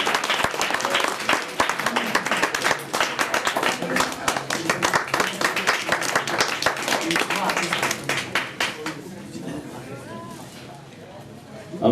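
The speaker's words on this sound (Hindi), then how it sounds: "मैं चाहता हूँ कि तमाम ही लोग उनका भरपूर तालियों की गूंज में इस्तकबाल करें" A crowd at a mushaira, an Urdu poetry gathering in Pune, breaks into loud sustained applause welcoming a poet, dense clapping that fades out toward the end.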